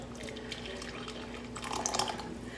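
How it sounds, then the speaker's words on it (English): Tea poured from a teapot spout into a cup, a soft steady liquid trickle close by that swells briefly near the end, heard alone without talk. "I'm just going to pour a little bit because I won't be able to drink all this tea right now, but and it will come out of the spout here."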